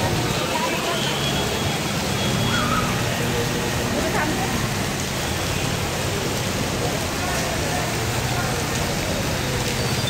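Dense, steady stormy rain pours down continuously in Nagpur, a loud broad hiss with faint traffic sounds underneath.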